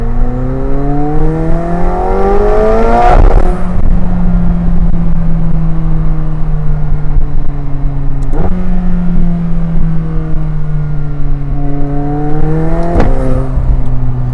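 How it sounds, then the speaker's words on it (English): McLaren 720S engine revving hard through the gears, loud and close, with rising pitch sweeps broken by sharp upshifts around the third, eighth and thirteenth seconds, each marked by small crackling pops. "And you get those little pops on the upshift as well."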